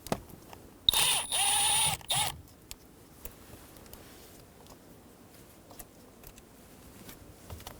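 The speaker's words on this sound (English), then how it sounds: "Using a Phillips head bit, remove the screws." Screws being driven out of a 2011-2014 Hyundai Sonata ignition starter switch with a Phillips head bit: one loud, steady whir of about a second and a half, then quiet faint ticks and handling noises.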